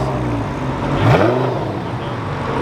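A V10 engine in a custom C6 Corvette-based car rises in a brief rev around the middle, its rough mid-range drone sitting over a steady background rumble at close range.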